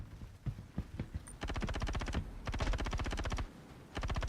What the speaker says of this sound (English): I can hear gunfire, boys.